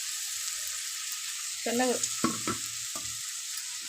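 Rice being mixed into a sizzling tempering for chitranna makes a soft, steady fry hiss with a few clattering stir strokes in the middle. A brief spoken word comes in alongside them.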